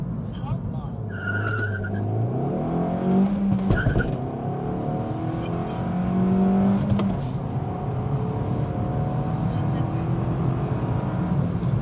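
A Suzuki Swift Sport Hybrid 1.4 Booster-Jet's engine hums and shifts pitch as it takes a corner, tires briefly squealing, with someone talking over the driving noise.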